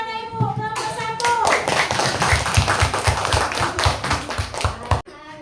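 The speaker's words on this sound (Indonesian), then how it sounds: "Tepuk tangan untuk anak ibu kelompok 1." A group of schoolchildren and their teacher clap their hands together in a classroom to cheer for the first group, a steady burst of close, rhythmic applause lasting about four seconds before it cuts off.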